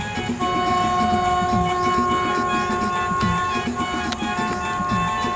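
A train passes on the railway line at Titlagarh in a continuous loud rumble with a few steady humming tones running through it and no break in the noise.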